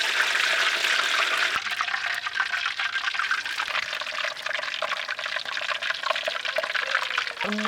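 Cold-pressed coconut oil for frying medu vada, poured in a continuous close splashing stream against a bright hiss, ending with a faint knock near the end, no one speaking.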